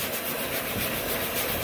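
Light sanding of a drywall patch over spray foam, with a vacuum running: a steady, even, close scraping rub that continues without pause and no voices.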